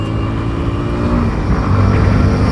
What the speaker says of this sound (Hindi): साउंड देखो एग्जॉस्ट का, मतलब इतनी ज़बरदस्त साउंड वाली कोई बाइक बना सकता है बजाज ने भाई।